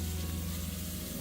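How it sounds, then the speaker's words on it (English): Onions frying in hot oil in a pan while making spaghetti sauce with oyster mushrooms, giving a steady close-up sizzle with a low hum beneath and no speech. "And in our oil, there goes we'll be adding our onions. As you see, our oil is sizzling"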